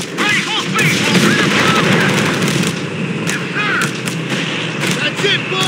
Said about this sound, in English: Get those mortars ready for action!